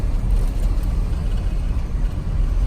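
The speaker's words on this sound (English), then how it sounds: "Okay, guys, I'm driving." A Chevy Avalanche truck driving after inner and outer tie rod replacement, giving a steady low road and engine rumble close by with no talking.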